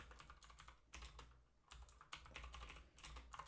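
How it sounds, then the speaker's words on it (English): Rapid typing on a very clicky computer keyboard, with close, bright keystrokes coming in quick bursts and brief pauses, no speech. "This is the clickiest keyboard."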